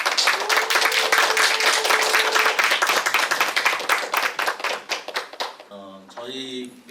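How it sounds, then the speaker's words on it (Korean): Audience applause at a Korean disability-arts forum welcoming a welfare foundation centre director to the stage, dense sustained clapping that thins into scattered claps before a voice begins speaking near the end. "큰 박수로 정규태 센터장님을 모시겠습니다."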